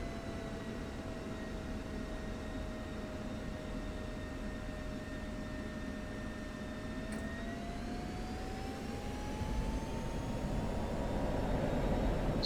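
A jet aircraft spooling up for takeoff on a runway in a flight game, a steady engine drone with whining tones that climb in pitch as the roar slowly builds louder.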